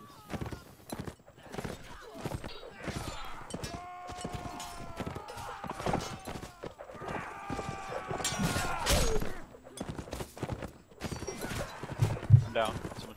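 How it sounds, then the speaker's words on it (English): Clip-clopping horse hooves and a whinny rise amid chaotic battle noise, clashing and shouting voices in a busy game soundscape during a multiplayer line battle event. "Oh, there's a horse back there."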